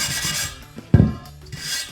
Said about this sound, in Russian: Для этого зачищаем вот эту насечку железной щеткой.